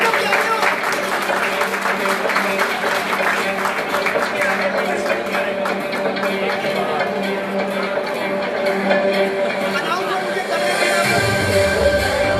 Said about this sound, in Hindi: तालियां बजा दियो यार